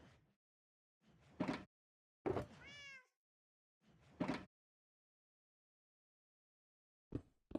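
A cat meows in several short separate calls with silent gaps between, one drawn-out rising and falling meow in the middle, close and clear.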